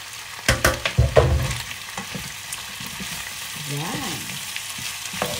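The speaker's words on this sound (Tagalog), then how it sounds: "Igigisa lang natin yan dyan." Chicken feet sautéed in a pan for a hot, spicy dish, with loud sizzling and a few sharp stirring clatters early on, then a steadier fry under brief speech.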